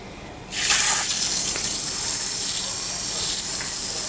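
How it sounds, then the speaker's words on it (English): Running water from a tap gushes on suddenly and keeps flowing in a steady, close hiss while tied shibori-dyed fabric is rinsed beneath it, with faint splashing changes as the cloth moves. "So what I'm going to do first is rinse"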